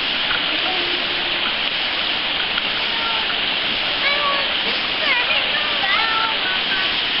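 A waterfall rushes steadily below a rocky outdoor spot at a summer campsite, a constant broad roar with children and an adult talking over it.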